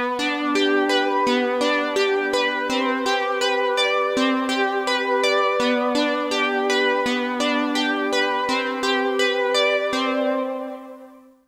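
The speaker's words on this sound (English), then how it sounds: "how I made the Juno bell keys patch from my Retro Serum Presets Pack" Bright Juno-style bell keys synth patch built in Serum plays a steady run of chords with a clear repeating rhythm, sharp bell-like attacks over sustained tones, alone and loud, fading out at the end.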